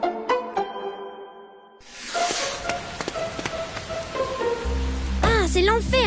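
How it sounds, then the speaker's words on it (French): Rain falling steadily as a dense, even hiss that swells after a quiet opening, with a low rumble and some chirpy tones toward the end. "Pourquoi il pleut?"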